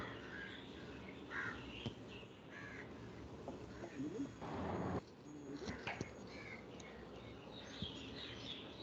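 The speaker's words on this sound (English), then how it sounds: "We can hear some birds chirping," Birds, mostly crows, caw intermittently in the background of an online meeting call, faint and distant, with occasional soft voices.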